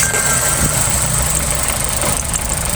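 A 2018 Hyundai Accent, rough-running after a head gasket replacement and a swapped ignition coil, idles steadily up close with a dense mechanical hum and faint knocking vibration, alone without talk.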